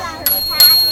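Bell on a Trek bike-share bike with a three-speed internal gear hub, struck twice in quick succession, each ring bright and sustained, close by.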